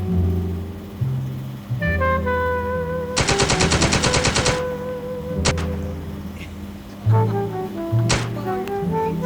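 Gunfire rips into zombies in the video game Ocean Home 2, a loud rapid burst of automatic shots followed by a few isolated sharp shots over a background of steady game music tones.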